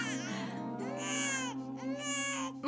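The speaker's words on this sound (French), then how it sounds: "Ne pleure pas, mon amour. Tu n'as aucune raison de pleurer, mon ange." A baby cries in sustained, high wavering wails, close and fairly quiet, with brief pauses between the sobs.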